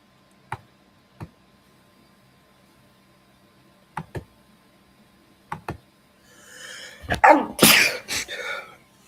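A single sharp sneeze bursts out loudly near the end, after several quiet ticks and clicks; a person's voice follows with a brief aside.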